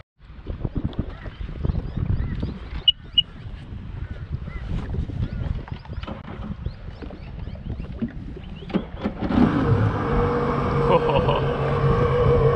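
A jet ski engine is started after being flooded at Lake Somerset: irregular clattering and knocking come first, then the engine catches and settles into a steady, close running note.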